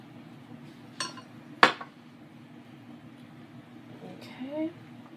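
Brownie batter with vanilla being mixed in a bowl, two sharp close clinks of a utensil against the bowl early on over a steady low hum, followed by a brief voice near the end.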